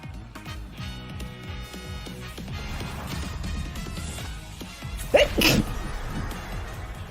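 A single sharp sneeze bursts out near the end over a busy backdrop of rhythmic thumping game sounds and music.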